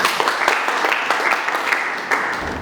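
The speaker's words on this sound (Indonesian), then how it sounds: "Tepuk tangan untuk Tuhan." Congregation at a church service applauding, a steady wash of many hands clapping at close range for nearly three seconds, with a few sharper individual claps standing out.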